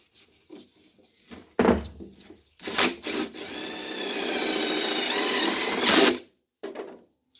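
A power drill drives screws into a wooden bird bath form: short bursts of motor whine and clatter, then a sustained whirring run of about three seconds, close and loud with no talk.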